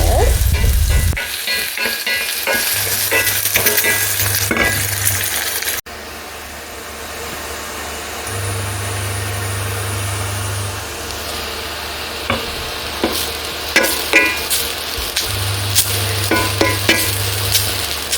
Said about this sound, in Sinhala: තලාගත්ත පොල් මැල්ලුව මෙහෙම දාලා මෙහෙම කලවම් කරගන්න